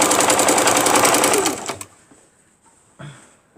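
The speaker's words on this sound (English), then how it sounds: "we're going to go sewing it down" A sewing machine stitches down a maple leaf quilt in a loud, steady run of rapid needle beats lasting about a second and a half, then stops, leaving faint handling noises and a brief soft thump.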